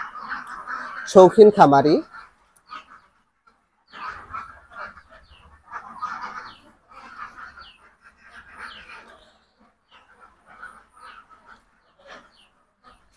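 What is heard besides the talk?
ducks on a duck farm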